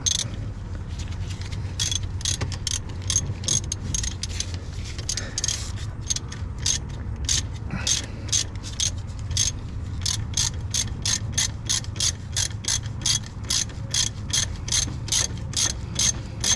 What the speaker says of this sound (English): this lower transmission mount, I'm just hand tightening it right now